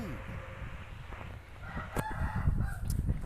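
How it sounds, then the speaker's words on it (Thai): A rooster crows partway through in the Roblox game Ghost map, amid clattering noises and low rumbles, with a few sharp clicks and bursts of activity. "ไก่ก็ขัน"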